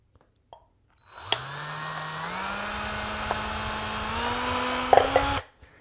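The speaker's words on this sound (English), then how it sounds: "we're going to take our drill or knife or whatever, and we're going to put a couple of holes into the bottom." A small power drill spins up and whines steadily for about four seconds while boring holes in the bottom of a plastic cup, its pitch rising slightly near the end before it stops.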